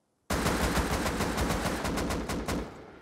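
Sustained automatic gunfire in the survival video game Rust, a loud, close burst of rapid shots that begins abruptly and rattles on for nearly three seconds, with no voices over it.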